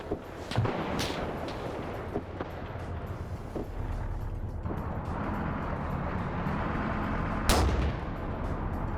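Tanks attack in a strategy video game, with booming gunfire and explosions that break out irregularly over a constant rumbling din, one blast standing out near the end.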